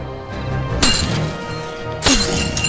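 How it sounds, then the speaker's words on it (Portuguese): Iron chains breaking as a sound effect: two sharp metallic shattering crashes, the first near the start and the second later on, each followed by ringing, clinking debris fading out. "Muitas vezes já tinham amarrado as suas mãos e os seus pés com correntes de ferro, mas ele quebrava tudo."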